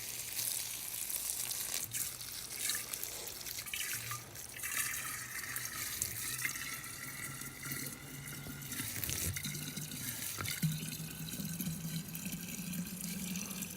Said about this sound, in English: I have my watering can.